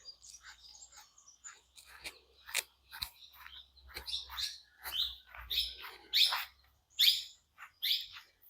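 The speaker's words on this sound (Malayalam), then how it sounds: "പക്ഷികളുടെ കളകളാരവങ്ങൾ." Birds chirp and call around a temple in Wayanad, a quiet scatter of short, bright tweets repeating irregularly over a faint low hum.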